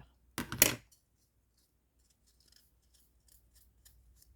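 A single close, crisp snip-and-slice of scissors cutting excess material on a shabby-style easter egg craft, followed by faint light handling rustles; no speech.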